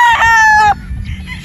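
A rooster, an Asil-type game fowl at a Batangas game farm, lets out one loud, close crow lasting under a second, followed by faint ambient farm noise.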